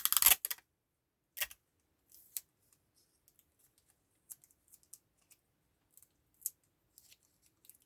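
Scissors trimming excess adhesive tape at home, a few quick crisp snips near the listener followed by faint scattered ticks and small clicks in otherwise quiet surroundings.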